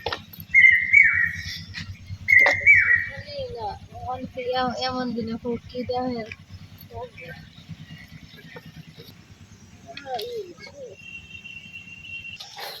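A bird sings nearby outdoors, a couple of clear sharp whistled calls early on and a thin sustained note near the end, with people talking loudly over and between the calls.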